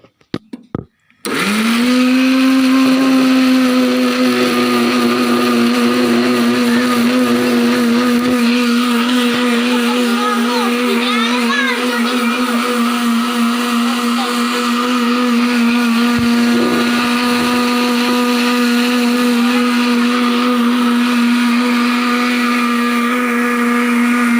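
Home blender running at a loud, steady whine as it purees banana and apple into a shake, starting abruptly after a few clicks and holding an even pitch for over twenty seconds.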